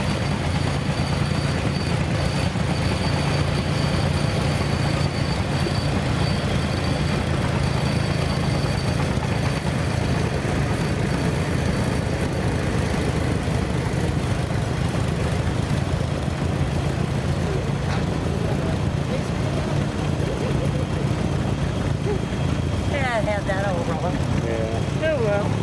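An antique tractor with a Tecumseh engine runs in an outdoor parade, its continuous low rumble steady throughout under a voice talking over a loudspeaker.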